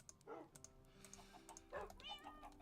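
Chicken clucking in Minecraft: a couple of short, quiet clucks and squawks over faint game background, low in level.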